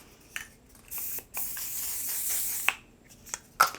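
A single setting spray mist bottle sprayed in several short bursts, close and moderately loud hissing puffs with brief gaps between, no talking.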